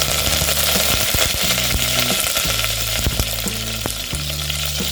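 Mustard seeds and curry leaves hit hot oil, giving a loud, continuous crackling fry with dense sharp pops and spits, close up and without voices.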